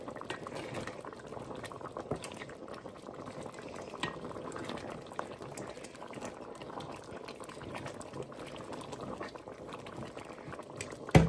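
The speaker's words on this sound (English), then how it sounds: "So now we just wait for it to simmer for about 10 minutes" A pot of food simmers on the stove for a cheap family dinner, a steady low bubbling and gentle gurgle that carries on evenly and close, with a brief clunk at the very end and no voices.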